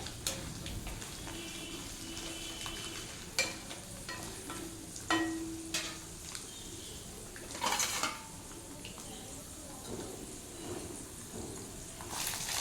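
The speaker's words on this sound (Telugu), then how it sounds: "పచ్చిమిర్చిని కొంచెం వేయించుకోవాలి" Green chilies and peanuts fry in oil in a home kitchen pan, a quiet sizzle broken by scattered clinks and scrapes of a utensil against the pan.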